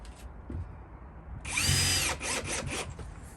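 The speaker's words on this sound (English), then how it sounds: "So that's why me and Stevie use a normal drill" A power drill whirs briefly, driving screws into wood, a short burst after a quiet pause, followed by a few lighter mechanical whirs and clicks.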